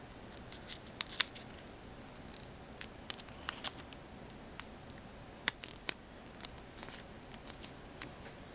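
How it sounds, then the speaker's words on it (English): Paper being creased for a mini origami star box, heard as scattered sharp crisp clicks and crinkles close by at a low level, spread irregularly with quiet gaps in between. "you're going to fold the triangle into a half"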